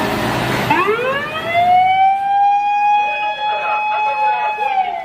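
A red-and-white toy fire service truck sounds its electronic siren, a loud, steady wailing tone that holds close and unbroken for several seconds after a brief handling clatter.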